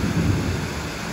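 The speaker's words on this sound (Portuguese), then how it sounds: "mas tá trovejando." Thunder rolls through a heavy rainstorm over Curitiba, a deep rumbling swell over dense hiss of falling rain, loud and close for about a second with no voices.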